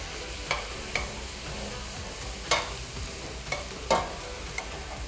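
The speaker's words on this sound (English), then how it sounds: "we're going to add our minced lamb" Minced lamb frying with onions and carrots in a pan, a low, even sizzle under several scattered scrapes and knocks as a utensil spreads and stirs the meat, with no talking.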